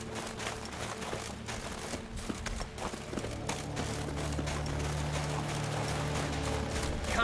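Horse hooves clip-clopping in The Witcher 3 Wild Hunt, a steady rhythmic trot of a large horse, fairly quiet and close, alone with a faint background hum.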